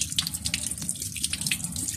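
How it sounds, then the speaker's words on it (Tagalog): Hands being washed under a running kitchen tap while cooking ginataang paksiw, a steady close splashing stream of water filling the sink with no talking. "hugas po muna tayo ng kamay"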